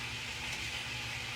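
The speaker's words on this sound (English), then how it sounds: "Listen, they're frying." Steady hissing sizzle of collard greens frying in a pan with a little water on them, a soft continuous crackle with low background hum, no voices.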